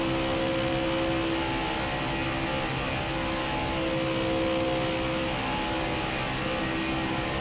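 Crowd of NASCAR Cup Series stock cars racing on the banking at Daytona International Speedway during a Duel qualifying race, a steady, dense engine roar with droning tonal hum, continuous and moderately distant.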